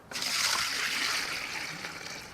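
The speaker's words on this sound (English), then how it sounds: "I'm going to go ahead and put part of the water." Water poured into a bucket for mixing wall paint, a continuous close splashing gush that starts abruptly and slowly eases over a couple of seconds.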